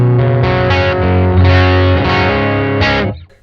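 Electric guitar played through a Mooer preamp with the boost engaged, loud sustained distorted chords with a few changes, ringing out and then cut off at the end.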